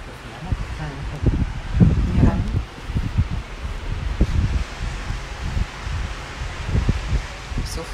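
Wind blows outdoors at a holiday spot in Spain, buffeting the microphone with low, uneven rumbling gusts and rustling, while voices are heard now and then.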